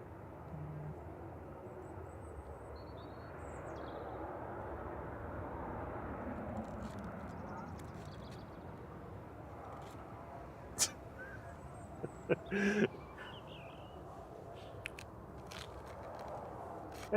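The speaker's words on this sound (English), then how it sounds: "A330-300 departing back to Beijing" A Hainan Airlines Airbus A330-300 airliner departs Manchester Airport, a distant, low, steady jet roar that holds faintly throughout, with a few sharp clicks and knocks nearby toward the end.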